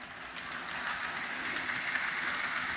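A Bachmann Monopoly HO scale model train runs steadily nearby, a continuous whirring hum with a faint rhythmic rattle, at moderate level with no voices.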